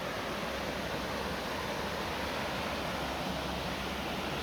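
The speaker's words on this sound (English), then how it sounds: "This is a nice little small waterfall here." Small waterfall on the Rivelin Valley trail, a steady, dense rush of falling water heard close up and continuously, with no talking over it.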